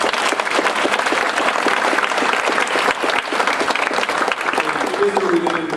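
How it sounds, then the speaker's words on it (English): Dense, steady clapping from a crowd at an award ceremony, loud and sustained for several seconds, with a brief voice near the end. "So let's give her another round of applause."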